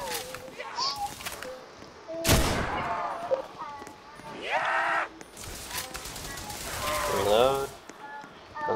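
Gunfire in a zombies video game, several sharp shots and bursts spread across the stretch, loud and close, with game sounds and talk in between.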